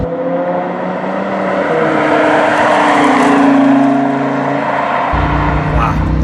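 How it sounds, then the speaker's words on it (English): A Lamborghini Huracan with a dual-clutch gearbox being driven at low speed, its engine note rising and dropping through quick gear changes, loud and close from inside the cabin, with a sharp shift near the end. "Man, the shifts, you can hear them, the shifts are unbelievably fast."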